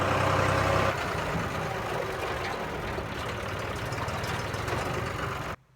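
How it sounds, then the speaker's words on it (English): A lawnmower engine runs steadily in a backyard, a continuous mid-pitched motor drone that holds loud and even throughout before cutting off abruptly at the end. "Got Weston on the lawnmower back there"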